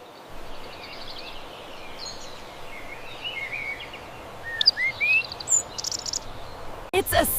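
A bird chirps in short, thin tweets over a soft outdoor hiss, the calls scattered and fairly faint, growing busier toward the end with a brief rustle at the close.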